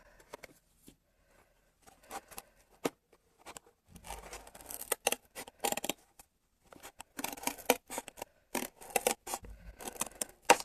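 Scissors snip and crunch through cardboard to widen a hole, sparse cuts at first, then a dense run of close, crisp snips and rustles with no talk.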